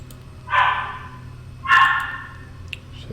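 Dogs bark twice, two short, sharp barks about a second apart, moderately close over a low steady hum, with no talking.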